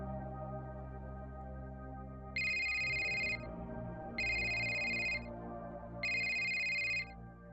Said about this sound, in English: he hears the shrill and ever-present ring of a phone, a compad.